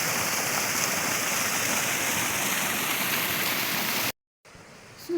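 Steady, loud rush of water flowing in a stream beside a village path, continuous broadband roar with no voices, cutting off abruptly near the end before a quieter, more distant wash of water resumes.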